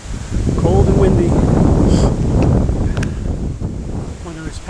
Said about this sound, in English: Ooh, it's cold. Cold and windy.